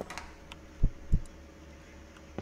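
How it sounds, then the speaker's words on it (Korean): A heartbeat in a horror video game thumps twice in a close, heavy double pulse over a low ambient hum, otherwise quiet with a few faint ticks. "아, 막 심장 소리 들려."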